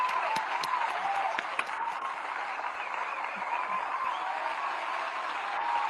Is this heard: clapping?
yes